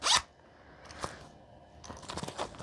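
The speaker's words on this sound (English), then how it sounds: "Let's see if the zipper, yeah, the zipper works" A sharp zipper pull on a Coach bag opens the clip, followed by quieter rasping zip strokes and fabric handling, close to the microphone.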